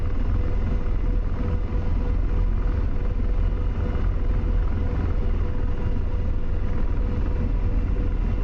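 An AH-64 Apache helicopter in the DCS flight game rolling forward for a heavy takeoff, a loud constant rotor and turbine rumble heavy in the low end, unbroken throughout.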